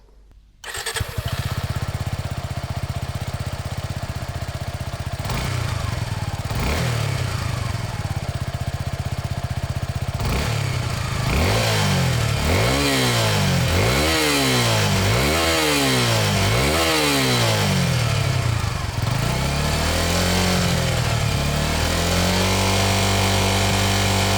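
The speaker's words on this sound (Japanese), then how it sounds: "それではエンジンをかけてみましょう。" A Suzuki V-Strom 250 SX motorcycle engine cranks and starts, then idles before being revved repeatedly in rising and falling bursts, loud and close, settling into a steady idle at the end.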